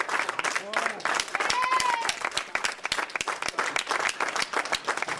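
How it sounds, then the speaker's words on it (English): Audience applause at a public meeting as a speaker leaves the podium, steady dense clapping throughout with shouts and cheering voices rising over it. "You can hear the applause as she leaves the podium."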